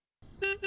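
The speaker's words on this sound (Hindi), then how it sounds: "देखो कोई बाहर हॉर्न बजा रहा है।" A car horn sounds outside, two short toots in quick succession after a moment of silence, faint and distant.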